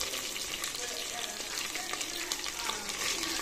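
Onion frying in a pan with mint and coriander for tomato rice, a dense close sizzle and hiss with small stirring noises, steady throughout.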